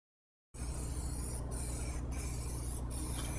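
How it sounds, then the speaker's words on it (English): Spray can applying a light coat of Plasti Dip to an aluminum alloy wheel, a steady close hiss that starts abruptly after a moment of silence and continues with brief dips as the can moves. "Just keep the can moving and try and get a nice light coat over the entire surface area."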